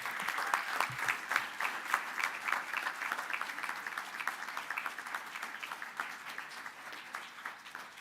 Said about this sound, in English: let's give a warm welcome and a congratulatory round of applause to Temple University's Athletics Hall of Famer, Deb Brown Townsend